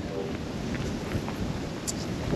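Steady broadband wind rumble buffets the microphone outdoors on a cold day in a residential neighborhood, with no voices, just a continuous gusty roar.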